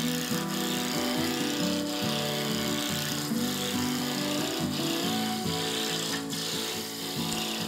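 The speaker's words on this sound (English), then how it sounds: "Just using a 3/4 roughing gouge here." A 3/4 roughing gouge cuts a spinning workpiece on a wood lathe while a pommel is roughed down, giving a steady close rasping, scraping drone with an even hum beneath and no talk.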